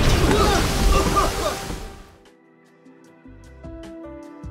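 An audio drama plane crash effect: a loud rushing, splashing roar of a plane hitting water for about two seconds, then it cuts away to quieter low rumbling and tonal effects.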